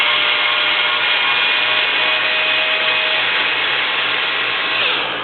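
A power driver fitted with an H5 bit whirs steadily while backing small screws out of the front end of a Traxxas Slash 2WD RC car, one continuous close, loud buzz that fades slightly at the end.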